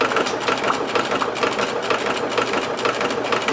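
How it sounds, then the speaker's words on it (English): A sewing machine runs steadily at close range, its rapid needle clatter forming a dense, even mechanical chatter throughout. "Thank you, sewing machine."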